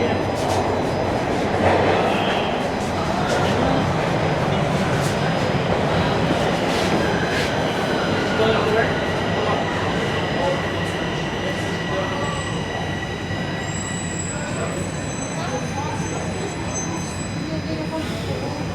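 Toronto subway train on Line 1 running after midnight, with a steady loud rumble of wheels and motors, faint squeals and rattles, and scattered voices in the car.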